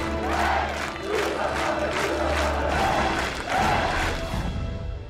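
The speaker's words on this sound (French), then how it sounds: "applaudissements pour eux tous." A crowd of about a hundred volunteers gathered to rebuild a family's house cheers and shouts in unison with some clapping, loud, close and rising in bursts before tailing off.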